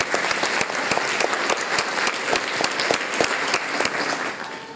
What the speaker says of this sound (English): Let's give them some applause,